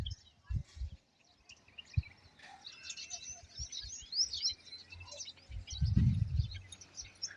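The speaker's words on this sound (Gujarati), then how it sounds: "ચકલી એકદમ જો ચી ચી ચી ચી કરી રહી છે" A sparrow chirps in short, bright bursts in a quiet outdoor spot, moderately close and fairly faint, with a few low thumps and handling bumps mixed in.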